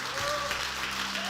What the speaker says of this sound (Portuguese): Fica de pé e já aplauda o Senhor.